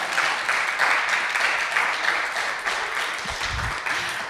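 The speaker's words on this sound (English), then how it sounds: "can we please all clap for Brigham?" An audience at a flash fiction festival award ceremony claps for a named participant, steady broadband applause from a moderate crowd lasting throughout, with a few low thumps near the end.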